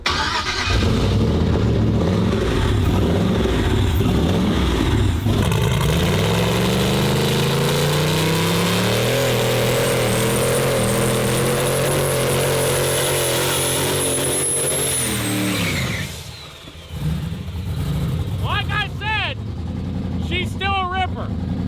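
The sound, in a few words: car engine revving, burnout car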